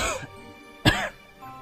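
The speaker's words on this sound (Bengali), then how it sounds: "খানিকটা কেশে গলা পরিষ্কার করে বললেন" A man clears his throat with a short cough, a single close burst standing alone, followed by quiet background.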